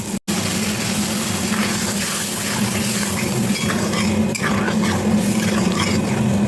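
Curry gravy with white mustard paste for a fish jhal bubbles and sizzles steadily in a pan, a dense, close, continuous simmering hiss with no talk.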